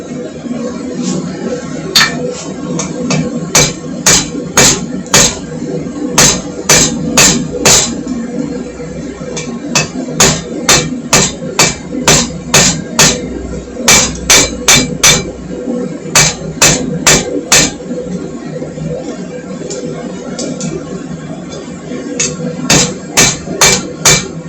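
Hammer blows on metal taper a hand-forged bottle opener, sharp ringing strikes in quick rhythmic bursts with short pauses between, loud and close over a constant workshop hum.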